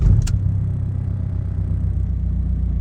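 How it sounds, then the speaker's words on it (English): A Volkswagen Passat B5.5 engine fires with a brief burst, then settles into a steady, close, low rumbling idle. "I haven't started the car, so when I start it"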